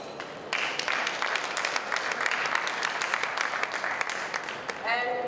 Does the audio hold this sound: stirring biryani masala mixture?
no